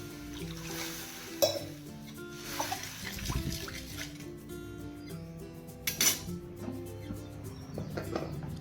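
Water pours into a cooking pot of vegetables with splashing and gurgling, along with a few clinks of metal utensils against the pot.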